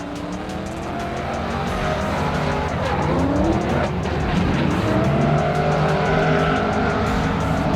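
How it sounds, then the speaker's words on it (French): BMW E30 Touring race car battling in a car race at Val d'Argenton, engines roaring loudly throughout with revving, shifting pitch and tyre squeal as cars pass close, no voices. "C'est la bagarre là avec cette BMW E30 Touring, son petit taureau rouge."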